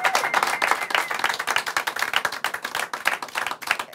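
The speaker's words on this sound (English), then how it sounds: "Let's give them one more live special clap for tonight." A live studio audience claps at a television show, a dense run of sharp handclaps close up, steady and loud for several seconds.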